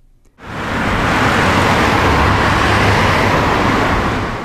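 Heavy highway traffic crawling bumper to bumper on a busy holiday travel route: a dense, continuous roar of many vehicles rises quickly and then holds steady and loud throughout.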